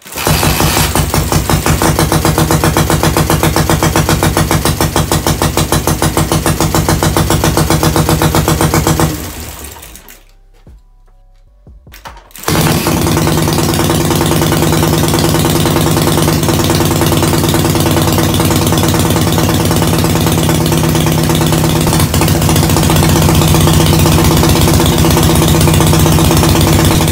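A custom motorcycle's small engine chugs steadily and loudly up close with a rapid ticking beat, cuts out for about two seconds, then resumes running.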